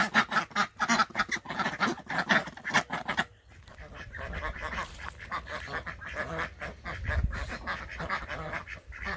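Pet ducks quacking in a rapid, loud burst of overlapping calls near a backyard pool, then quieter scattered quacks over low rumbling background noise.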